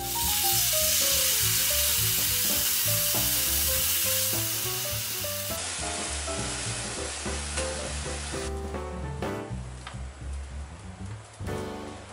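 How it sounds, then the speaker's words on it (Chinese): Beef shank and sake sizzle loudly in a pan over high heat with pork trotters, a dense steady frying hiss that eases slightly in the second half, with some stirring clatter and no voices. "我们开大火，把酒精烧掉。"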